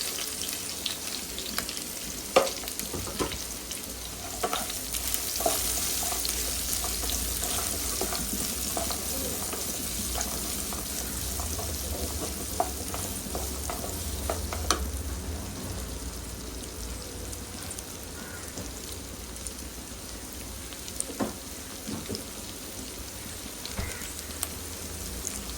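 Onions frying in hot oil with already-popped mustard seeds in a pan for fish curry, a steady close sizzle throughout with scattered crackles and occasional stirring scrapes, no talking.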